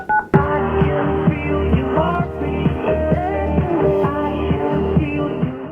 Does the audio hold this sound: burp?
no